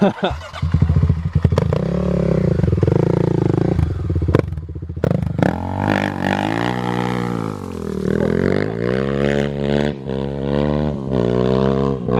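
A Kawasaki KLX351 dirt bike on new Tusk DSport tires revs hard while its rear tire spins, the engine rising and falling through loud, sweeping pitch climbs at close range.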